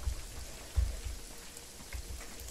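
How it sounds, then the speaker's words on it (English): Heavy night rain in Jagged Alliance 3 hisses steadily with soft low thumps scattered through it, a continuous wet wash with no voices. "Heavy rain and night action."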